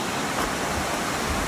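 A strong river current rushes past near a road bridge in Chalatenango, El Salvador: a loud, steady, close roar of turbulent water that runs unbroken throughout, with no voices.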